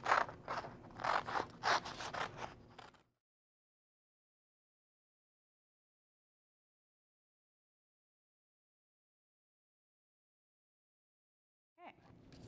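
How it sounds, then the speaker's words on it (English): Paper being cut out with scissors, several close snipping and scraping strokes in a short burst, then a long silence before a brief final snip. "And then cut it out."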